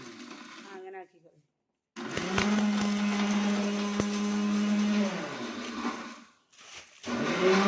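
A mixer grinder grinding ingredients whirs loudly and steadily for about three seconds after a short pause, then winds down; people talk before and after it.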